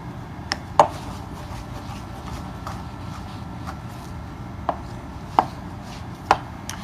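A knife chops pork tenderloin on a board, cut for Korean sweet and sour pork, with a few sharp, separate strikes at uneven intervals over a low steady background hum.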